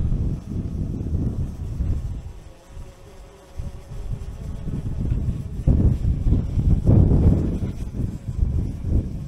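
Strong gusty wind buffets the microphone outdoors over a small town, roaring in uneven low surges that rise and fall in loudness.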